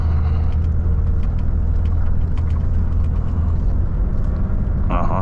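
A Volvo FH 540 truck climbing a slippery slope on a run to Yakutsk, its heavy engine droning loud and steady with a whirring, rumbling tone as the wheels slip, close and continuous.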